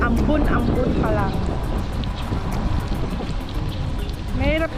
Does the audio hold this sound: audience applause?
no